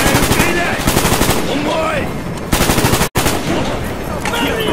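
Rapid automatic gunfire from a Call of Duty: Black Ops battle, loud and sustained in dense bursts with a brief cut of silence near the end, while a voice talks over the shooting.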